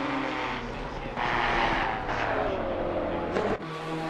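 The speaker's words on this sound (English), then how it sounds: "sliding his McLaren through turn 10 as he goes down the hill and onto the power to the line" A McLaren race car in a sim racing game at Red Bull Ring slides through a downhill turn and accelerates hard, its engine note rising and sweeping continuously with tire scrub, loud and close, before a brief gear-change dip near the end.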